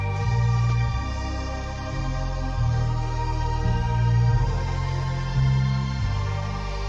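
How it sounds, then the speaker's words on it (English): A Korg Poly 61 synthesizer plays a sustained strings patch, warm chords holding steady and shifting every second or so over a low bass line, loud and continuous with no voices. "Added a few strings from the Korg Poly 61."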